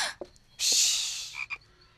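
In the animated series Mia and Me, frogs croak in a few short, close bursts, with one long rasping call in the middle and brief quieter croaks around it.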